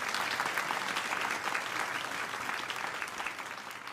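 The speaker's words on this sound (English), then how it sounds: "as you continue to clap" A church audience applauds the musicians with dense, continuous clapping that is fairly distant and steady, slowly easing in level toward the end.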